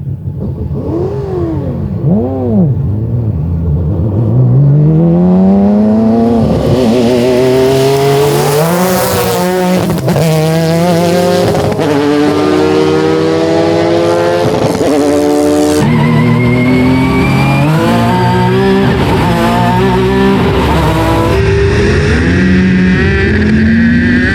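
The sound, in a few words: Ford Falcon V8 and Nissan 350Z cars in roll race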